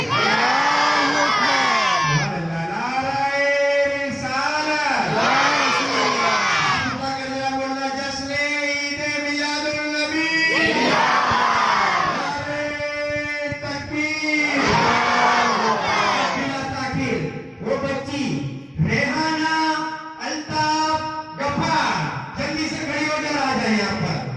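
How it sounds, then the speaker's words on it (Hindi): A crowd at a gathering chants the Takbir slogan in loud call-and-response waves of massed voices, with shouts rising repeatedly over several rounds. "एक बार सब लोग झूम कर पर फिर नारा लगाए, नारे तकबीर"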